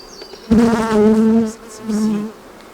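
Honeybees buzz loudly at an open beehive during a May hive inspection, a close, dense, droning hum that swells in two long waves with a brief dip between them.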